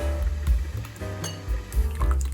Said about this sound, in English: prepare 200 ml of water, stirring and adding at the same time.